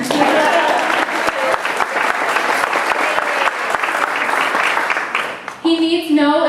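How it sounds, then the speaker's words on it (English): Loud, close audience applause at a book release celebration, dense clapping that holds steady before thinning out near the end, where a brief tonal sound cuts in. "yes, clap."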